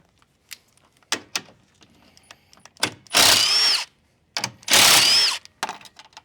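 A power tool spins out 10 mm bolts on a 2021-2023 Ford F150 truck grille, with two loud, sustained whirring bursts among scattered clicks and clunks of handling, no talk.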